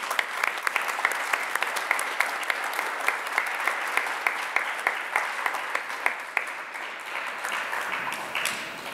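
Audience at a high school presentation day applauds students, a steady dense wash of many hands clapping continuously throughout, fading slightly toward the end.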